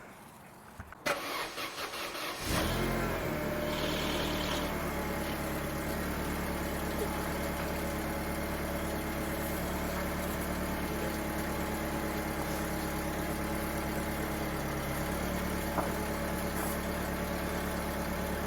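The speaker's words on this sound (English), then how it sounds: "reconnected the battery, just started the car" A 2002 Mercedes CLK230 engine cranks and catches after its battery is reconnected, then settles into a steady, loud idle that runs on evenly with a constant hum for the rest of the time.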